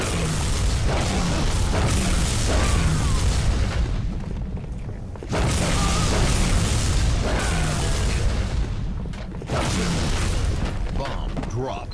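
Repeated booming bomb-drop explosions in the Call of Duty video game, loud and broad, in two long bursts under gameplay noise, with players talking over them.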